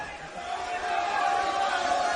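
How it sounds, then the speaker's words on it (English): Large, loud, drunken crowd at a Cinco de Mayo party, a dense steady roar of many overlapping voices and shouting, close and continuous. "we have got a large, loud, drunken crowd right here"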